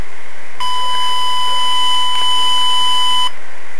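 Censor bleep: a single loud, steady electronic tone lasting a few seconds, starting and stopping abruptly, alone against a quiet background.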